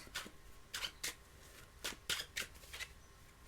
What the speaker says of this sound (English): now let's shuffle again